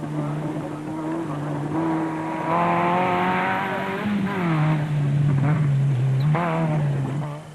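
Twin-turbo rally car engine in the Off Road Racing 2005 video game, droning steadily with pitch rising and dipping through revs, loud and continuous over a low hum.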